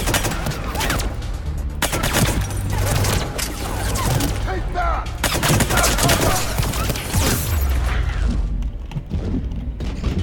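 Rapid volleys of grenade explosions and gunfire boom through a Mass Effect 3 firefight in the Citadel DLC, dense and loud almost throughout, with brief dips between bursts.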